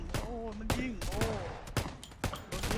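Gunfire in the PUBG battle royale game: several sharp broadband shots in irregular bursts, some close and loud, others quicker like automatic fire, with a person talking over them.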